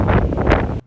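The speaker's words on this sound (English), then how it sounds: "Now let's see if it's still windy." Gusty wind buffets the microphone on a golf course in high winds, a loud, close rush lasting under a second before cutting off, with no talk.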